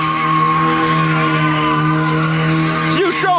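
Mazda Miata spinning in circles at a car meet, a loud sustained tire squeal and engine whine heard close, ending in a brief rising squeal as the car comes around.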